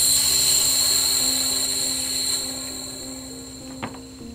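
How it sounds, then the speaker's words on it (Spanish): Compressed air hisses steadily out of the reservoir of an Onix Kron PCP air rifle, a thin, high, continuous sound that slowly fades, with a faint tool click near the end. "Dejamos que vaya saliendo el aire poco a poco."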